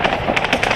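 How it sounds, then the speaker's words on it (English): Rebel gunfire crackles around Donetsk International Airport during the battle, a quick cluster of sharp reports in under a second, moderately loud with no talk. "All around us, they're firing."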